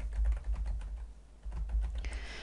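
Quick, light keystrokes on a computer keyboard, a short burst of steady close typing while a database query name is entered, with no voice over it.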